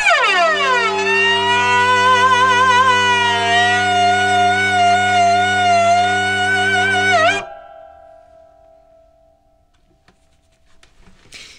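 A droning hurdy-gurdy plays sliding, wavering glissando pitch sweeps over a steady low drone, stopping abruptly and leaving quiet room noise.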